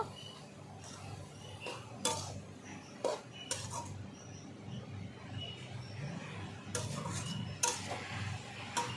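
Katwa data greens stirred and mixed with a ladle in a pan, with scattered metallic scrapes and clinks against the pan over a low, steady background hum.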